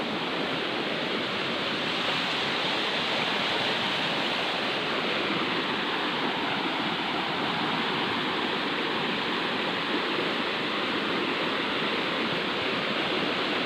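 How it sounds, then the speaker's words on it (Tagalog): Swollen floodwater carrying logs rushes in a loud, continuous roar, with no break or voices. "Nakikilala ko yung baha na lumaki siya ng lumaki"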